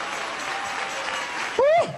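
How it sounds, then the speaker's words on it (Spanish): Congregation applauding in a church service, a broad, even wash of clapping that holds steady before a single voice cuts in near the end. "Dale ese aplauso a Jesús."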